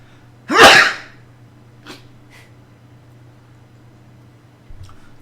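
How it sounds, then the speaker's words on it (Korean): A single loud, sharp human sneeze bursts out close to the microphone, followed by a couple of faint breaths or sniffs and quiet room background. "재채기가 나오네요."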